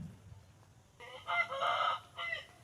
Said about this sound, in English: The rooster has a lot of energy.